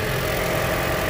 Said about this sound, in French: comme vous pouvez entendre, le moteur il est en train de tourner